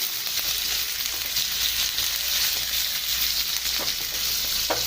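Chicken liver frying lightly in oil over a low to medium flame, a continuous close hiss and crackle with a low hum beneath and a few faint scrapes toward the end.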